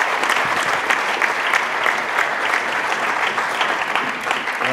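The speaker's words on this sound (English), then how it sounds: "I'd like to give a round of applause for those guys" An audience at a radio awards ceremony applauds steadily and loudly, a dense wash of many hands clapping continuously without a break.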